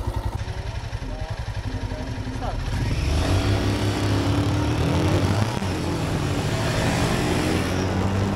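Royal Enfield Himalayan 452 and 411 motorcycles accelerate along an empty road, engine note building and rising after a few seconds into a sustained loud roar mixed with wind rush, with a rider speaking briefly at the start.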